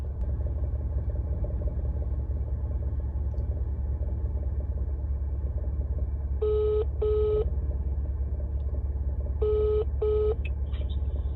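Four short electronic telephone dialing tones in two quick pairs sound over the steady low rumble of a PickMe ride-hailing car interior.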